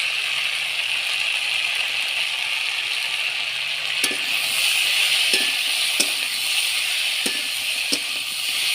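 Fried lentil dumplings and prawns tossed into a pan of hot oil, a steady bright sizzle with occasional sharp clinks and scrapes of a utensil against the pan, close and continuous, no talking.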